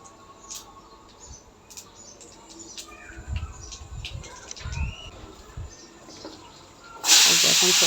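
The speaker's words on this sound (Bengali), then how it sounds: "এখন একটু কালি জিরা ফোড়ন দিলাম" Nigella seeds hiss and crackle in hot oil in a home kitchen, a steady sizzle with scattered pops and clatter, swelling into a loud bright burst of frying near the end.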